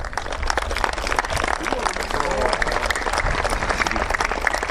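Dense applause from a crowd at a stadium stand inauguration, loud and sustained throughout, with voices mixed into the clapping.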